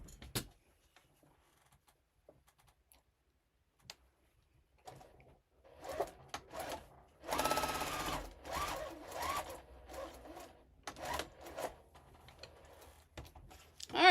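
A sewing machine stitches fabric for a foundation-paper-pieced bunny quilt block. A few faint clicks come first, then a steady mechanical whirr in bursts of varying length, close and fairly quiet.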